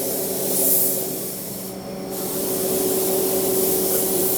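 A spray gun lays a nitrocellulose sunburst finish onto a Gibson Les Paul Tribute guitar body in a factory finishing booth, producing a continuous close, loud hiss with a slight swell near the start and no voices.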